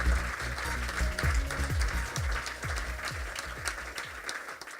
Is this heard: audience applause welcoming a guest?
yes